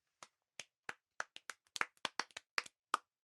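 Classroom children clap in an uneven scatter, a sparse sequence of about fifteen crisp, close handclaps that quicken and bunch together midway, with silence between the strikes.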